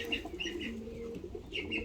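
Pigeons from Kayseri coo in low, rolling murmurs while freshly unboxed, with a few brighter chirps and a brief flutter close by, fairly faint overall.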